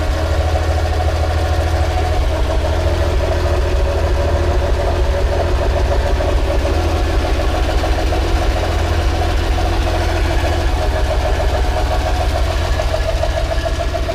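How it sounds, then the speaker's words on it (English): A Suzuki Carry's engine idles after an exhaust replacement, a loud, steady, low rumble with an even throbbing pulse that stays constant from start to finish, with no speech. "Looks like the engine itself is louder than the exhaust is."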